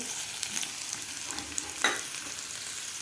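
Onion, capsicum, yellow pepper and tomato are stirred in a hot pan for cheese masala Maggi, giving a steady close sizzle with soft scraping stirs and no talk.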